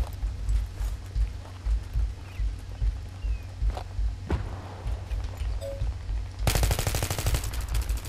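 Gunfire in a multiplayer shooter game on the Noshair Canals map: scattered single shots early on, then a dense rapid burst of automatic fire over the last second and a half, loud against a constant low rumble.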